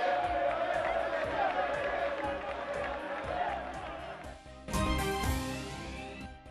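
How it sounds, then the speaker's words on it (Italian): Black-and-white football supporters of Battipagliese staging a peaceful protest after a match, a dense crowd roar with shouts and chanting that swells sharply toward the end and stays loud. "A fine partita, contestazione pacifica dei tifosi bianconeri nei confronti della squadra di casa."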